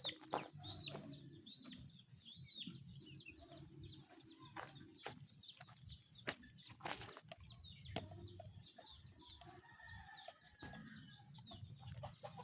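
Pet chickens cluck and call on and off at close range, with a few sharp bird calls, wing flaps and farmyard clatter over a steady outdoor background.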